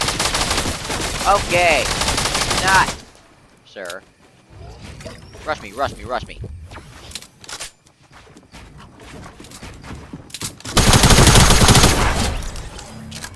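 Bursts of assault rifle fire with a thermal scope in a first-person shooter, loud dense volleys at the start and again near the end, with sparser shots and a player talking in between.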